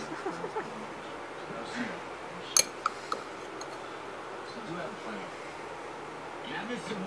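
A little spoon clinks against a dish while salsa is scooped onto a homemade taco bake: a few sharp, faint metallic taps close together, under steady conversation.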